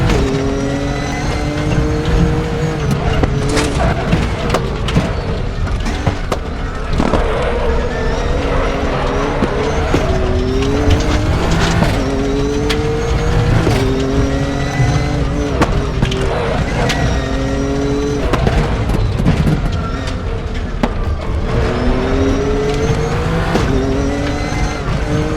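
AMG and GT-R race cars howl through repeated gear changes in the RaceRoom racing game, their engines rising and falling in pitch while tires squeal as they lose traction.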